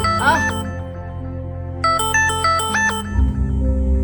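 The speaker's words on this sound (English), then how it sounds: "There's a phone call coming in." A phone ringtone for an incoming call plays as a loud electronic melody of bright repeated tones, starting with a short burst and then a longer run of rising and falling notes.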